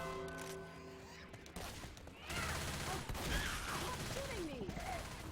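Continuous gunfire in the zombie shooter Left 4 Dead, a steady dense clatter of shots at moderate loudness mixed with game noise and speech, running throughout.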